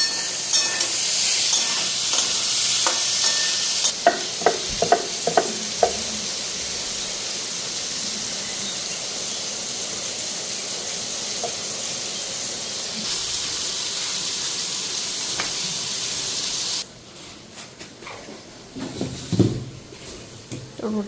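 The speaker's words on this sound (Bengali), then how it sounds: "রুটি ভাজা হয়ে গেছে" Roti fries in a hot pan with a loud, steady hiss and sizzle, broken by sharp utensil clicks, then fades to a quieter background as a person talks nearby.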